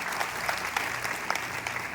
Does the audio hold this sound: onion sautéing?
no